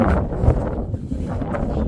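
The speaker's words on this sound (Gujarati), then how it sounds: "પવન પણ જોરદાર છે. તમને પણ અવાજ પણ આવી રહ્યો છે." Strong wind buffets the microphone on a Girnar mountain trail in a heavy, continuous rumble that surges and eases, with no voices.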